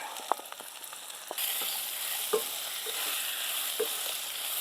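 Prepared payar beans tipped into a hot pan of fried chillies, a few clattering drops then a sudden jump into a steady close sizzle with light stirring taps.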